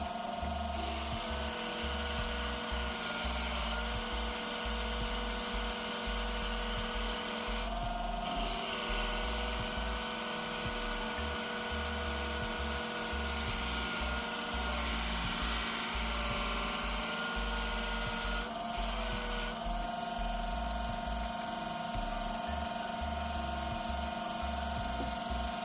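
A steady, loud grinding whine of curved grooming shears being convexed on a grit wheel with a Katoku guiding system, an unbroken motor hum with brief dips in pitch as the blade shifts.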